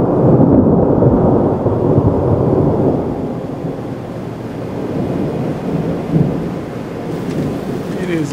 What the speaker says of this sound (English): we have thunderstorms moving into the area